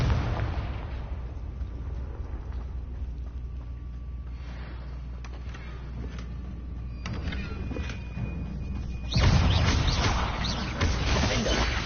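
The Confringo fire spell in Hogwarts Legacy lands as a loud, booming blast near the end, following a stretch of low rumbling game ambience with scattered small pops.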